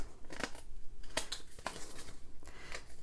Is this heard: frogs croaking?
no